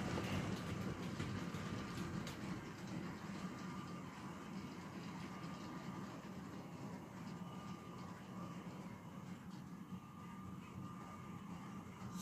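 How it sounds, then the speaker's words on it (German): A toy brick model locomotive, a MaK DE 1024 diesel built from clip-together bricks, runs steadily along its track hauling freight wagons, giving a faint continuous whirring rumble with light rail clatter throughout, no talk. "Wie man sieht, die Lok fährt einwandfrei."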